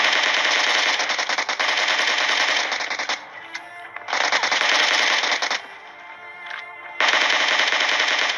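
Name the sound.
shotgun gunfire in a video game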